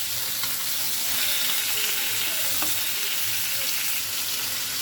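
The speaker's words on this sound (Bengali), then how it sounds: "এবার মাছগুলো উল্টে দিব।" Flipped tilapia pieces frying in hot oil in a pan, a loud, even sizzle running continuously with light clinks from the utensil and no voices.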